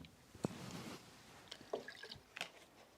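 Water poured into a steam iron's reservoir, heard as faint, scattered drips and short trickles with a few soft knocks, quiet and close.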